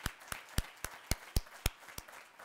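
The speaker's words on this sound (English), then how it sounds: "Let's give another round of applause for that." An audience at a Founders Day event claps in distinct, evenly spaced claps, about nine sharp beats in a quick rhythm, rather faint and heard alone.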